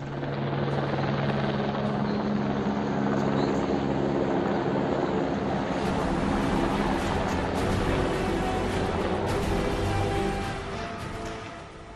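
Army helicopter flying over a flood disaster zone in the Himalayas, a loud, steady rotor and engine roar that stays close and continuous with no talk over it.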